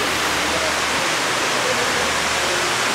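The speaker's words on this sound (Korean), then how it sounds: "저기 폭포가 있고." A waterfall at a mountain hermitage on Gujeolsan in Korea roars as a dense, steady broadband rush, loud and continuous with no pauses.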